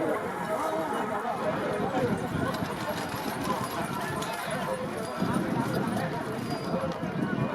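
Bullock and horse cart race: hooves pound rapidly on the ground amid a roaring, excited crowd at a village fair, the running thud continuous beneath loud shouting.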